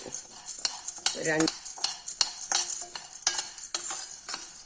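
Besan roasting in ghee for besan ladoo, stirred briskly with a spoon scraping and clinking against the pan in rapid irregular strokes over a soft sizzle, close up with no speech.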